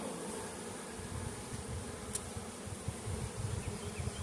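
Honey bees buzz around a beehive comb in a faint, steady drone with small flickers of closer wingbeats, with no voices.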